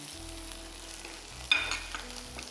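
Corn with chopped green chillies fries in a pan while being stirred, a low steady sizzle under a humming background, with a sharp scrape of the spoon midway followed by a brief burst of frying.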